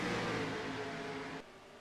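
Race car engine in a NASCAR-style cup series racing video game at New Hampshire, a steady distant whirring engine drone that drops off abruptly near the end.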